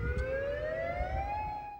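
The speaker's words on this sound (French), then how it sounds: "Sirène d'évacuation dans les rues." An evacuation siren wails through Florida streets as a hurricane approaches, a steady, slowly rising tone with strong harmonics sounding continuously and fairly loud for the whole stretch.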